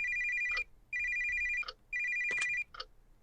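A telephone rings in three repeated electronic trills with short pauses between, fairly close, with faint background bumps and noises.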